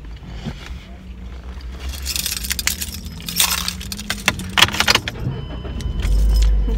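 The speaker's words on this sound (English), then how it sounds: "Glad my car finally starts." Keys jangle and clink close by as a car engine turns over and starts, its low rumble building steadily into a loud, even idle by the end.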